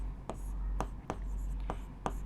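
Pen or chalk writing out a maths equation during a class lesson, heard as a steady scratching with several sharp taps at a quick rhythm, fairly close, over a low constant hum.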